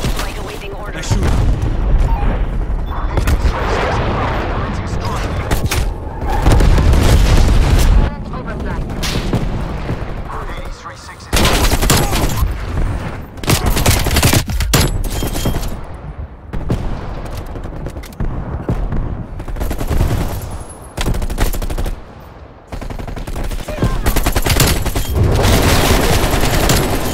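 Dense gunfire in the video game Black Ops Cold War, including AK-47 shots, comes as loud bursts of rapid fire and booming blasts with short gaps between them, while players talk over it.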